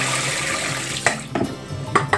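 Tap water running into a kitchen sink while cranberries are drained, a steady close splashing stream with a few sharp clinks and knocks.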